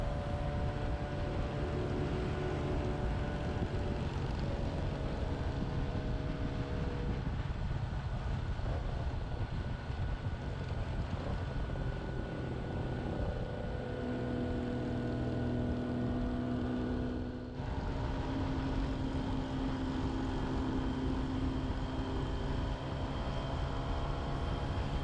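A 1982 Yamaha RD 250 LC motorcycle engine while riding, heard as a steady, continuous drone with a constant low rumble and a slight shift in tone partway through.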